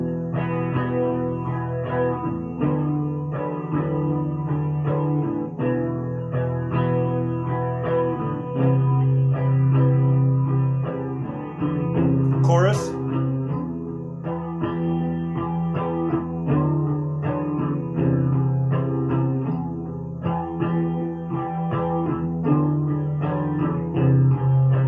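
Early demo of a metal song, a dense, distorted band mix with heavy guitars running steadily and loud throughout, no voice speaking over it.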